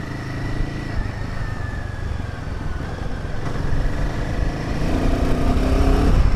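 A Royal Enfield Himalayan 450 motorcycle on the move, its steady engine drone and road rumble building gradually louder with rising revs toward the end, heard up close and continuous without any talk.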